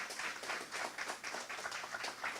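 An audience claps in welcome for arriving guests, a steady, dense patter of many hands at moderate volume, sustained without a break and with no talking over it.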